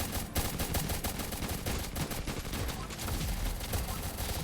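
Rapid gunfire from a Roblox tower defense game, dense continuous bursts of shots rattling loudly throughout with no pauses.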